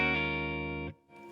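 A Marshall DSL15C 15-watt combo guitar amp with the deep switch off rings out a sustained, distorted chord with reverb that cuts off abruptly, followed by a quieter fresh strum.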